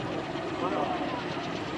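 An intermeshing-rotor helicopter idles with a steady, dense mechanical drone that holds even for the whole stretch, heard alongside someone talking.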